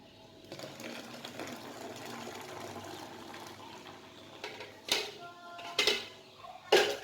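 A blender grinds lemon juice ingredients with water, giving a steady motor whir that runs for several seconds before a few louder, sharper surges near the end.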